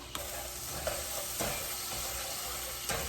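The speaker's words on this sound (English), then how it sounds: "Just wanna saute them in this steak juice because that'll taste real good." Food sautéing in steak juices in a pan, a continuous close hiss of sizzling with a few faint clicks of utensils, no talking.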